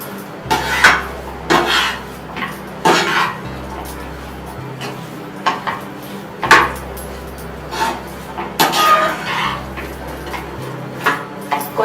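Sago upma stirred in a pan, with a spoon clattering and scraping against the metal in irregular bursts every second or two, fairly close and loud, over a low background hum.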